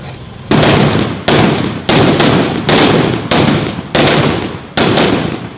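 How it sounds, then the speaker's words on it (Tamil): A string of loud firecrackers bursts at a village celebration after residents repaired a link road, with about seven sharp cracks at roughly one-second intervals, each trailing off into crackling. "இணைப்பு சாலையை வெற்றிகரமாக சீரமைத்து பட்டாசு வெடித்து கொண்டாட்டம்."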